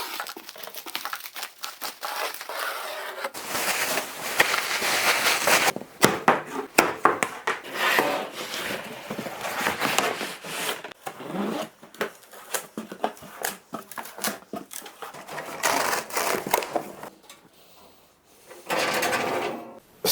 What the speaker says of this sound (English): let's get started on opening these packages